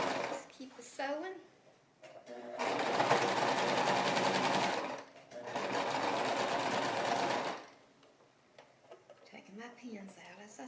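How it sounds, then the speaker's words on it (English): A sewing machine stitching a baby romper runs in two long, steady buzzing bursts with a short pause between them, close and fairly loud, while a voice talks softly before and after. "Let's keep it sewing."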